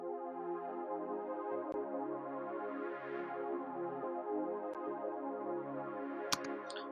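Sustained synth pad chords for an afro drill beat, holding warm layered harmonic tones that shift chord by chord, steady in level and playing alone without drums or voice.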